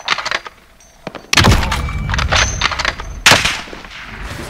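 Gunfire in the Warzone video game: scattered sharp shots up front, then loud bursts of rapid automatic fire with metallic pings and a second heavy volley near the end.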